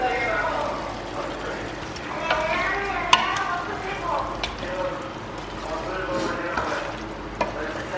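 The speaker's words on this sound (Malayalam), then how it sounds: "ഇങ്ങനെ തിളച്ച് വരികയാണ്." Chicken curry simmers in a pan with a soft bubbling sizzle and occasional spoon clinks, while a person talks over it throughout.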